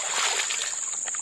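Water sloshing and splashing close by during an outdoor bath in a forest stream after fishing, a continuous churning wash with no talk.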